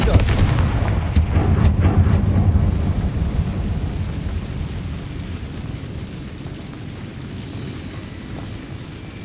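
A Confringo blasting spell explodes in Hogwarts Legacy: a loud, deep blast at the start rolls into a long rumbling tail that slowly fades with no voices.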